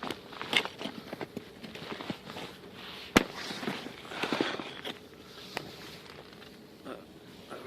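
Ice-laden trees during a Toronto ice storm give sharp cracks and pops, one loud snap standing out among scattered crackling and crunching, heard from a moderate distance over steady outdoor noise.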